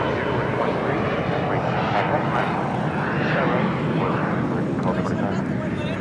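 A Korean Air Boeing 747-8 Intercontinental jet lands at LAX, a loud, continuous broadband roar that holds steady throughout, with muffled talk underneath.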